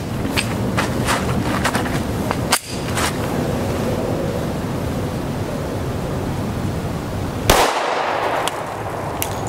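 A Glock pistol firing Sellier and Bellot 180-grain FMJ 10mm Auto rounds outdoors at about 50 degrees, shooting over a chronograph 10 feet away: a series of sharp, loud shots, then a pause and one more strong report.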